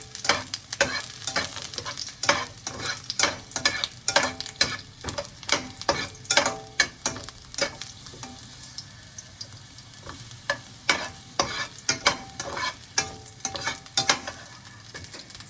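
Garlic sautés in a pan with a soft background sizzle, while a spatula taps and scrapes against the pan in frequent irregular clicks for the whole stretch, close and fairly quiet.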